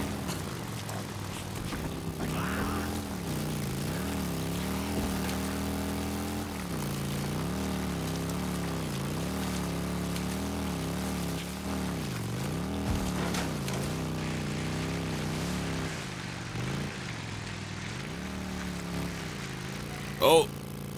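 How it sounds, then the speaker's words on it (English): A helicopter in the video game Days Gone drones overhead with a low, wavering rotor hum that rises and falls for about twenty seconds, with faint talk in the background. "I hear a helicopter."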